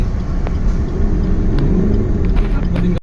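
A car drives along with a steady, loud low rumble of engine and road noise that fills the whole stretch and cuts off abruptly at the end.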